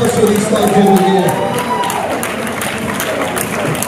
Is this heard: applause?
yes